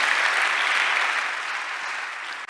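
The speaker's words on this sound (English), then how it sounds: "Can we have a round of applause for our panelists," Audience at a city policy forum gives the panelists a dense, steady round of applause, loud and continuous throughout, with no talking over it.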